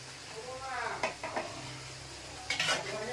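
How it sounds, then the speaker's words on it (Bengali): Potato pieces frying in hot oil in a home kitchen pan, a steady sizzle with scraping stirs and metallic clinks of a utensil against the pan. "এবার আলুগুলো ভাজা হবে।"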